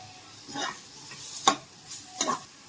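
Ginger-garlic paste frying with onions in a pan, a quiet sizzle under three soft bursts of stirring, the middle one sharper with a light utensil tap.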